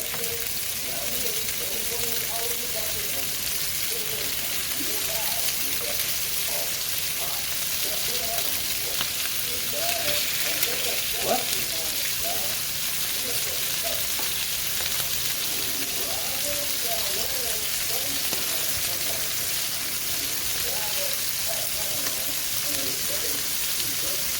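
Hot oil in a pan sizzles steadily as seasoned food fries, a dense continuous crackle and hiss with brief pops rising through it, close by and loud, with no talk over it.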